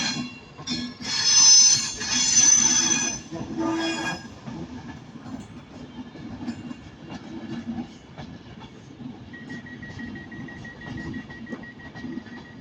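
Class 323 electric train passing at Manchester Piccadilly station, loud and close at first with a rumbling roar and a brief squeal, then easing into a steady rail hum with a sustained tone.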